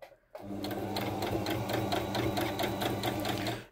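A sewing machine stitches steadily through cushion fabric, a close, even, rapid mechanical chatter that runs on without pause after a brief quiet start.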